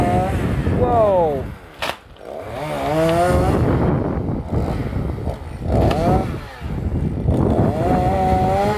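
A chainsaw cuts a branch of a bodhi tree at a pagoda in Vũng Tàu, revving loudly and continuously with rising and falling pitch and a few brief drops in throttle.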